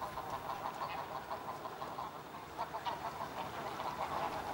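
A dense chorus of migrating ducks and geese honks and quacks steadily in a Dutch wetland reserve, many overlapping calls from near and far at moderate loudness with no talking.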